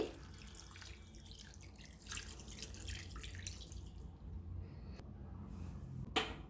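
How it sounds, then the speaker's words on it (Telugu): Water pours and trickles into a fish curry pan for several seconds, a steady splashing wash with a brief sharper splash near the end. "ఇందులో వాటర్ వేసుకోవాలండి"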